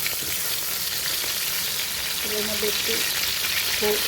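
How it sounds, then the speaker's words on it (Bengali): Continuous bright sizzle of soybean and potato frying in hot oil, with a voice briefly talking over it. "লবণ, আলু দিয়ে ভাজা হইতেছে"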